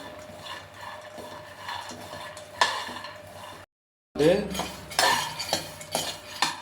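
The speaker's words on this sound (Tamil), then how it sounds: "300 கிராம் வேர்க்கடலை போட்டு வறுத்து இது நல்லா வறுக்கணும்." Peanuts, 300 grams, dry-roasting in a pan for traditional peanut balls: repeated clinks and scrapes of a spoon stirring against the metal, steady and close, with a brief silent gap midway before busier stirring resumes.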